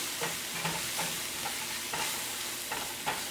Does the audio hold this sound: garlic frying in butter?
yes